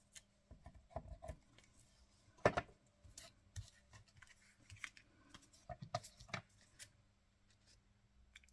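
Scissors snip lace trim away from a cord while crafting a 12x12 scrapbook layout, giving a few quiet, scattered cuts and rustles with brief, soft handling noises between them.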